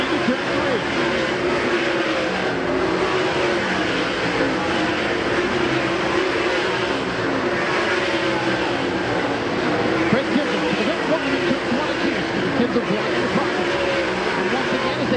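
DIRTcar Sportsman race cars roar around a dirt oval at a 2012 World of Outlaws event, a dense, continuous engine drone with a track announcer talking over it throughout.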